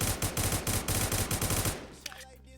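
Rapid automatic gunfire in the Roblox shooter Chicago Remastered, a loud continuous burst of evenly spaced shots for nearly two seconds, then stopping abruptly with a few faint trailing clicks.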